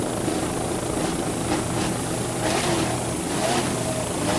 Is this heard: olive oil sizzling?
no